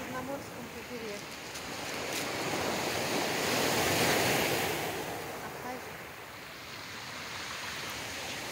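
Black Sea waves break along the shore at Pitsunda in Abkhazia, a steady surf rush that slowly swells to a peak and eases off again, with faint wind across the microphone.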